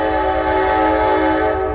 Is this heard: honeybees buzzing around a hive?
no